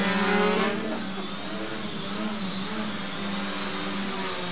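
Drone with Scorpion motors spinning steep-pitch 8-inch props indoors, a continuous loud buzzing whine with a slight surge at the start, held steady throughout.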